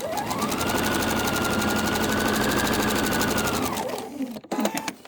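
A sewing machine runs steadily through a seam joining quilt pieces, a loud continuous whir for about four seconds, then stops, leaving a few light clicks and handling sounds.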